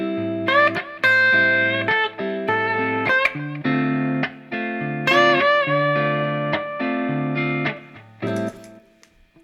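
Electric guitar plays a series of minor chords, each followed by a note bent upward and then released or held, in a clean, rhythmic pattern with short gaps between phrases.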